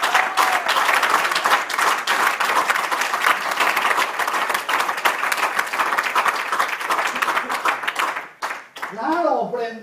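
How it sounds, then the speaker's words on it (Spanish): Church congregation applauding steadily for several seconds, a dense, loud wash of many hands clapping that fades near the end as a voice begins speaking. "Claro que ese aplauso puede ser más fuerte."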